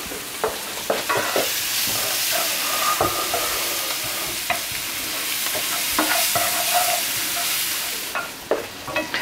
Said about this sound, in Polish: Dodaję tutaj cebulę. Lekko ją podsmażam, ale nawet nie na kolor, po prostu żeby była miękka.